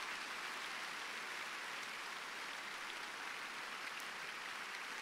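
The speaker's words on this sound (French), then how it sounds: "Donnez la plus grande offrande d'acclamation au Seigneur." A church congregation gives the Lord a sustained ovation, a faint, distant, even wash of applause that stays steady throughout with no talk over it.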